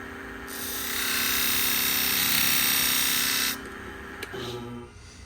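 A sharpening machine grinding a pair of salon shears gives one loud, steady, high grinding pass lasting about three seconds, then stops, followed by a faint clink and low mechanical hum.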